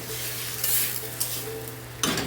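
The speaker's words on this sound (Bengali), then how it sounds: "এখন আমি জল অ্যাড করে দেবো সেদ্ধর মতোই আমি জলটা দিলাম" Water poured into a pan of sizzling fish curry, a steady sizzle with soft stirring and pan scrapes, a sharper splash near the end.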